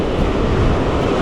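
Ocean waves breaking on a beach at sunrise in Wilmington, North Carolina, a loud, continuous broadband roar of surf with wind buffeting the microphone and no talk.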